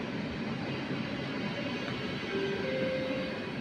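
Intercity train pulling into track one at a station platform, a steady broad rumble of wheels and carriages with a faint drawn-out squeal near the end, continuous and fairly close.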